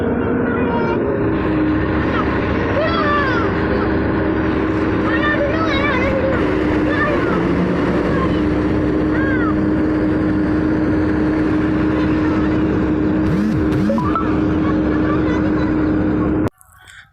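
A rice harvesting machine runs in a field, a steady loud engine hum with a sustained tonal whine through most of the stretch, with brief voices and rustling over it before it stops abruptly.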